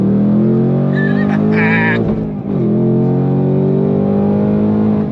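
A 2024 Ford Mustang Dark Horse (S650) accelerates hard on a race track in second gear, its loud engine roaring steadily upward with a brief dip around a gear change and faint tire noise, heard up close throughout.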